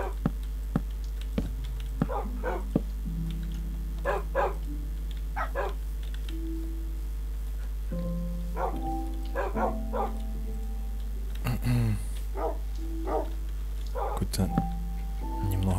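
A dog in Minecraft gives several short, sharp barks spread through the stretch, over steady in-game music tones with someone talking at times.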